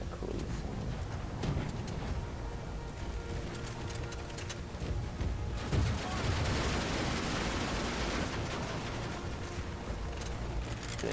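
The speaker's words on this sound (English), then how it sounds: "Grenadiers throwing grenades." A Total War battle set in 1942, Third Reich against the United States, with dense, continuous gunfire and crackling volleys as grenadiers throw grenades, a busy, distant-sounding din lasting throughout without let-up.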